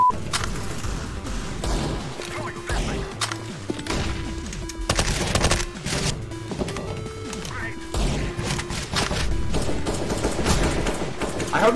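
An MP5 submachine gun fires in Counter-Strike: Global Offensive in rapid, continuous bursts. Loud crackling shots and impacts run throughout with brief gaps between strings of fire.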